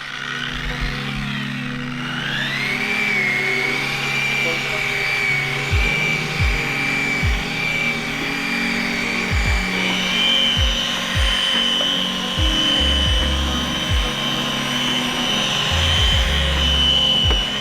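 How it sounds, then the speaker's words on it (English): A car polisher whines steadily against the paint of a long-abandoned Acura NSX, its pitch climbing early and then holding, with repeated dull knocks as the pad is worked along an edge. "I'm gonna run the edge of the polisher up and down into this drop"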